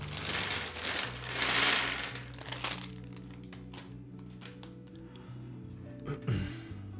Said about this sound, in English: I don't like this bag, so I apologize for the loud noise ahead of time.